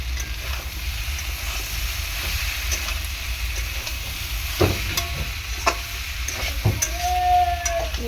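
Soybean curry with chilies and a pinch of salt sautéing in a pan, a steady frying sizzle throughout with scraping stirs and a few sharp spatula knocks against the pan near the end.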